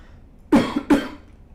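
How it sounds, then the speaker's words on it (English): Two sharp coughs about half a second apart, close and loud, breaking an otherwise quiet room. "Excuse me, I got a cough from this instance."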